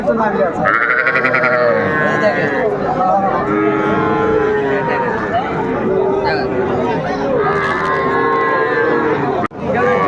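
Young cattle and calves at a livestock market give repeated close bleating moos, several calls overlapping across the stretch amid steady crowd noise and talking voices.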